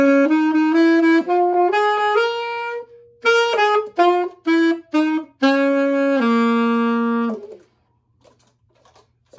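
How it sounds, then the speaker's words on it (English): Solo alto saxophone playing a jazz phrase, bright sustained notes with quick runs and short staccato bursts, close and loud, ending in silence with faint room noise. "So I can play some jazz on the saxophone,"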